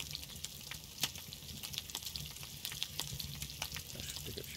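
Food cooks over a campfire in the survival video game Scum, giving a faint, continuous sizzle broken by soft, scattered crackles and pops.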